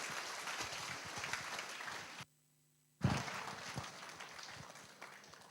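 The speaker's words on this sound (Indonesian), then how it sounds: "Sambut dengan gemuruh tepuk tangan yang meriah." A lecture audience at the Supreme Court claps steadily to welcome the speaker, a dense patter of many hands with a brief cut of silence midway before the applause resumes.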